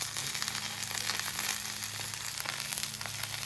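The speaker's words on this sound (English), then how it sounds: "Just like a shallow fry." Pork tenderloin shallow-fries on a griddle in bacon grease touched up with avocado oil, giving a steady, close, crackling sizzle that runs evenly throughout.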